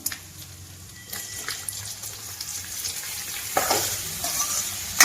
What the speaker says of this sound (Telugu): ముక్కల్ని మొత్తం ఒకసారి ఇలా కలిపేసుకుని